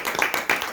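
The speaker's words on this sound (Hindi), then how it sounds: "अपने लिए ताली बजाओ।" An audience at a yoga gathering bursts into a short spell of clapping, several quick loud claps close by.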